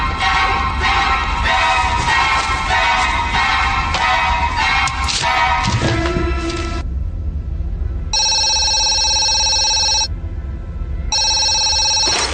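A telephone rings in short bursts with pauses between them, clear and close, after a stretch of dense, loud sound at the start.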